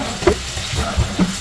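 Water spinach (kangkong) fries in butter and garlic in a pan, a soft steady sizzle with occasional stirring knocks and scrapes.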